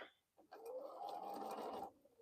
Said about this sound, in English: I'm just gonna stitch here, and then I'm gonna have to break this thread